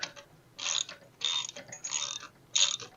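A ratchet driving a 17mm socket tightens bolts while a Skilsaw SPT99-11 jobsite saw is being assembled, making four or five close, rasping clicking runs separated by short pauses, with no talking.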